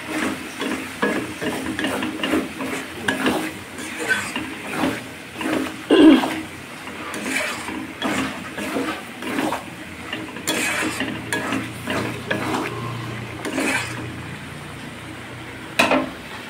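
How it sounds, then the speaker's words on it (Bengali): Bombay duck fish sautéing in a pan for a Bengali fish curry, a soft steady sizzle with repeated scraping and clinking of a spatula stirring against the pan, close by and fairly quiet. "আর এই যে লোটে মাছটা তো কষানো হচ্ছে"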